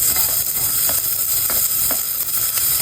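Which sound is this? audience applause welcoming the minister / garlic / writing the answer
garlic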